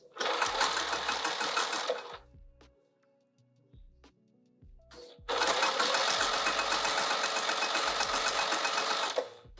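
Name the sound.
sewing machine stitching a pouch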